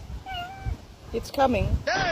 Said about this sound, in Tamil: அடா எவ்வளவு அழகா பூனைக்குட்டி மாதிரியே கத்துது